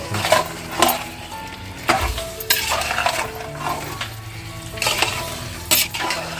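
Chicken pieces are stirred in a sizzling biryani gravy, with a spoon clanking repeatedly against the metal pan over a steady frying hiss, close by and without talk.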